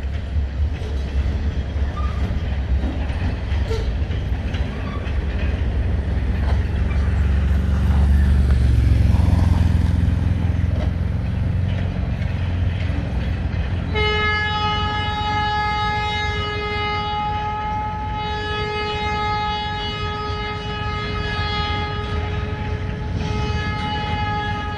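A freight train hauling heavy loads of pulpwood rumbles past nearby with a deep steady roar, then its multi-tone horn sounds loudly and sustained over the continuing rail noise.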